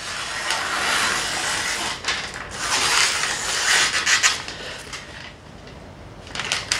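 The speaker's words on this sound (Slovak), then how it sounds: "nabrúsili nôž na dreve iba s pastami, bez hociakej brúsky manuálnej či elektrickej" Knife blade being sharpened by hand on wood coated with sharpening paste, a dry rhythmic rasping and rubbing in repeated strokes, fairly close and steady with brief pauses.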